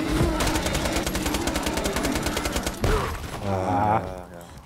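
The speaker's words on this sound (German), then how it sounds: "du kannst drauf ballern, um sie abzuhalten" Rapid automatic gunfire in a video game, a fast repeating burst of shots for about three seconds, followed by a few heavier blasts and game effects.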